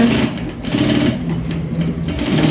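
A sewing machine stitches a kitchen oven glove, running as a loud, continuous, close mechanical hum with a rapid needle rattle and no pauses.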